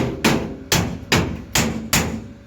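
A hammer strikes five times at a steady, slightly uneven pace while a side board is fitted onto a GAZ 52 truck. Each blow lands loud, sharp and close, with a short ringing decay, and there is no talk.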